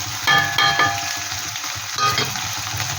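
Ground turmeric, cumin, coriander and Kashmiri chili powder with salt sautéed in hot oil for a Bengali koi fish curry: a steady close sizzle broken by several scraping stirs of a spatula against the pan.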